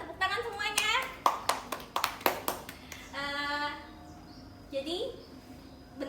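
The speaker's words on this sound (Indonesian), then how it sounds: "Tepuk tangan semuanya." A class in a microteaching lesson on fashion design gives a short burst of applause, a handful of sharp claps close together, followed by a teacher's voice speaking in a quiet room.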